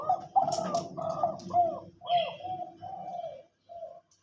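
A young bird, about two months old, practicing its crow with a series of rough, tonal calls, several phrases in a row broken by short pauses, close and fairly loud with no talk.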